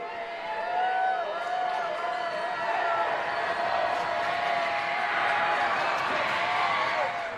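Basketball crowd in a high school gym swells into loud, sustained noise during overtime of a boys game between New Haven and Columbia City, steady roar with whistles and voices layered throughout.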